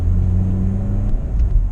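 Volkswagen Golf 7.5 TSI with a 2-litre petrol engine, a steady low cabin rumble and engine drone heard close and continuous, with no talking.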